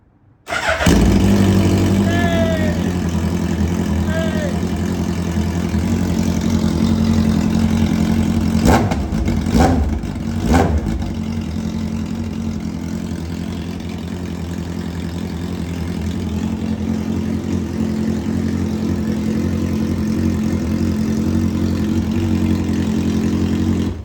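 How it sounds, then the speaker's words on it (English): A Suzuki Hayabusa motorcycle engine with no muffler cranks and fires up, then idles loud and close with a steady harmonic rumble, broken by a few sharp revs around the middle before settling back to a raw, throaty idle. "We haven't got a muffler on, which is why it sounds so loud, but it revs, it sounds glorious."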